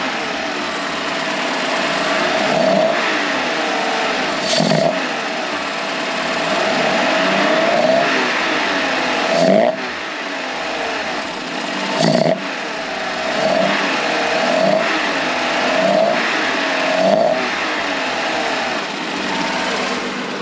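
BMW E36 325i inline-six fitted with an M3 intake, revved by hand at the throttle: a steady idle broken by a series of quick, sharp blips spaced a few seconds apart, close and loud, with no talking.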